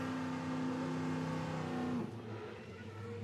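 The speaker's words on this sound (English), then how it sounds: "Revving it up." A racing car engine revs hard at a track event, a loud sustained harmonic whine that holds steady, then drops off abruptly about two-thirds through, leaving rougher lower engine noise.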